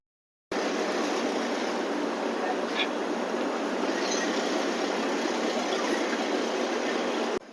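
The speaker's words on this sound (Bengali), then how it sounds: "সিগন্যাল হয়ে গেল, ট্রেন ছাড়ছে।" Falaknuma Express train at Balugaon station platform in Odisha, a steady loud rumbling roar of the train moving, continuous for several seconds after a brief silence, with faint squeals above it.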